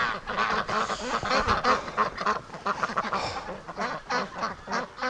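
A flock of breeding ducks quacks and honks continuously at close range, many overlapping calls in rapid, uneven bursts.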